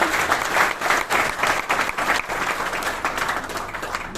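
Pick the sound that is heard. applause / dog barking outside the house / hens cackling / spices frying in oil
applause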